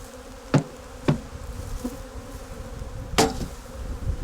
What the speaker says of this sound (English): Now we can pour the balance of the bees in.